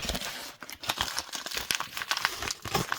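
Close, crinkly plastic wrapper of a Beyblade X booster pack being torn open and crumpled, a busy run of sharp crackles and rustles with no talking.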